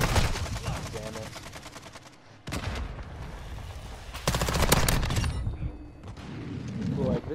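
Rapid automatic gunfire from the Bass-P in Call of Duty MW2, bursts of shots coming in repeated volleys with short gaps between, loud and close, alongside game sound effects.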